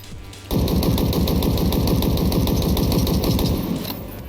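A BR75 rifle in a video game fires a loud, rapid, sustained burst of evenly spaced shots that starts abruptly after a brief pause and then tapers slightly at the end.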